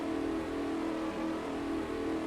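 Race cars in a video game run at Indianapolis with a continuous engine whine and drone, a steady, moderately faint roar of several cars together with slight swells, no speech.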